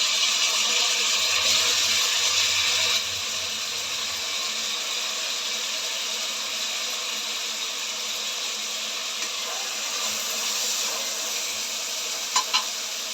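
Finely chopped tomatoes with salt and turmeric fry in hot oil in a pan for a vegetable pulao, giving a steady close sizzle and hiss with a couple of small clinks near the end.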